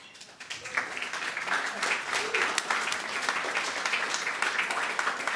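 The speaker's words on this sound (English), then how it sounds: "Let's have a round of applause for all our wonderful winners." Dense audience applause fills a press club journalism awards ceremony, a steady wash of many hands clapping together at moderate volume, with a faint voice briefly audible beneath it.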